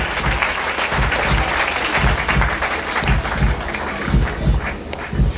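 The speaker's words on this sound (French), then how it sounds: "On applaudit très fort" Loud, sustained applause from an audience at the final of a Miss Cazères beauty pageant in 2012, dense clapping running steadily throughout with rhythmic accents, with no talk over it.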